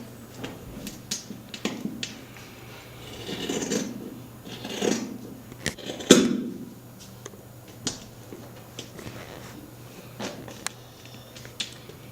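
Scissors cutting fabric around a paper pattern piece, with short intermittent snips and clicks and soft rustling of cloth and paper, close and moderately quiet, with no talking.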